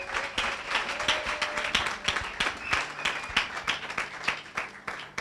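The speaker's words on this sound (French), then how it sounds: "Betela Yesu maboko." A church congregation claps for Jesus in a steady rhythmic beat of sharp, repeated hand claps, moderately loud, with voices mixed in underneath.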